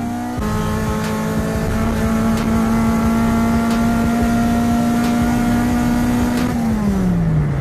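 A Toyota JDM car engine revs steadily at high RPM with a sustained droning whine, then drops in pitch as the revs fall near the end.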